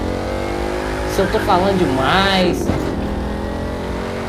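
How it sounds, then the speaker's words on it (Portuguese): Ford Mustang engine revving in the racing game The Crew 2, a steady engine drone with a brief rising rev and shifting pitch sweeps, heard under a voice talking. "é o pior som de Mustang que eu já vi"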